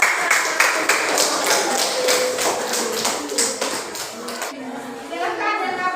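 A classroom of students applauds the batik group, a dense patter of claps running steadily for several seconds with children's voices mixed in, tapering near the end.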